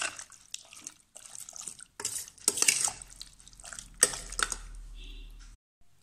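Beef being stirred and mixed by hand for a Kerala-style naadan beef fry, giving wet clinks, slaps and scrapes in irregular bursts, with a pause near the start and quiet speech in places.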